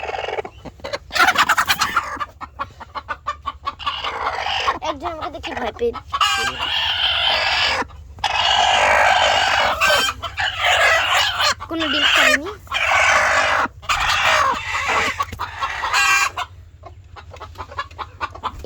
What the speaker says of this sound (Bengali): এখানে দুইটি মুরগি আছে